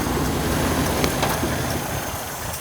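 A 1950s American pickup truck engine idles steadily nearby, a low continuous rumble with faint ticking and no one speaking.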